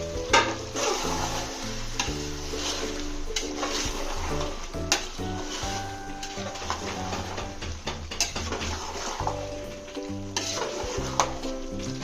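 Chicken curry is stirred in a pan over a continuous sizzle, with repeated scraping strokes of the spoon against the metal and a steady tonal hum running underneath throughout.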